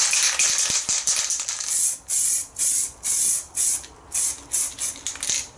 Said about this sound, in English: First coat, I'm just going to give it a very light dusting so that it can really bite in.